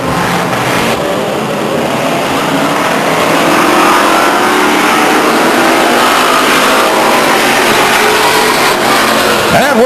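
A pack of race cars roars at a green-flag restart at Stockton 99 Speedway, a dense, continuous wash of engine noise that swells as the cars accelerate, loud and unbroken, with no voices over it.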